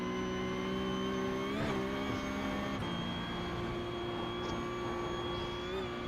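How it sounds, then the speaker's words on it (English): A race car engine in a racing video game holds a steady, high-pitched rev with a few brief gear-change blips, constant and loud throughout. "I put it in 6th gear and it's just revving up."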